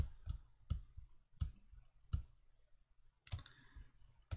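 Computer mouse clicks while working in FreeCAD CAD software: five crisp, close clicks at uneven intervals, faint and isolated against near silence, with no talking.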